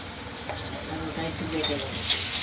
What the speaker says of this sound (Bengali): আলুগুলো ভাজা চলছে আলুগুলো আমরা হলুদ করে একটু ভেজে নেব